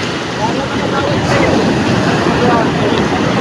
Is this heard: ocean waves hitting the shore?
yes